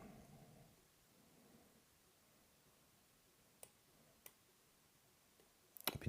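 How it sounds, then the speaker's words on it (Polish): Faint, sharp clicks from a lock pin being set while a CAM lock is picked, two distinct ticks spaced about a second apart over quiet handling noise, ending in a louder clatter. "zdecydowanie lekkie kliknięcie."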